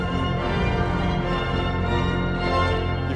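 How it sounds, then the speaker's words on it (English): Hinsz pipe organ in the Bovenkerk, Kampen, played with the Schokbalg wind stabilizer off, so the wind supply sags: a dense sustained chord that wavers slightly in pitch and loudness, steady and full for a few seconds without speech. "it's suffering from air loss a bit."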